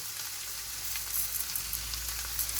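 Fenugreek seeds fry in hot oil for a squid curry, a steady, even hiss of close sizzling with tiny crackles and no voices.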